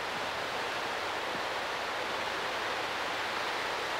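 Water seeps through the closed floodgates of Tuttle Creek dam in Manhattan, Kansas during the 1993 flood, a constant broad rushing hiss with no breaks, heard close and fairly loud.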